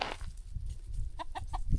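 Free-range chickens on an off-grid homestead in Portugal cluck close by, giving a quick run of three or four short clucks near the end over low rustling background noise.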